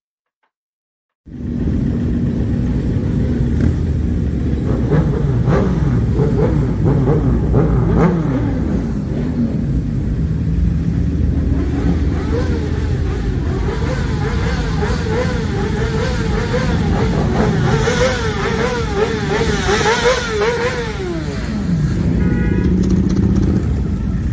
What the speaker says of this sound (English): So last week was a major bike rally in Heidelberg.